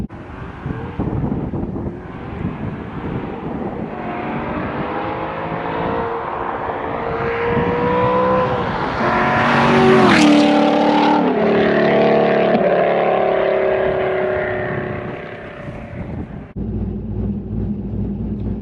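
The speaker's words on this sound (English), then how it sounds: "I just love the sound. I love the V8. I love the LS engine." A Chevrolet C5 Corvette Z06 with an LS V8 revs and accelerates, its loud, rising engine note swelling to a peak as it sweeps past, then fading away, with a brief rumble at the end.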